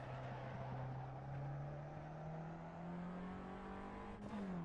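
Race car engine in the Assetto Corsa driving game holding a steady, rising drone with a smooth upward pitch sweep, then a brief shift near the end, loud and continuous with no talk.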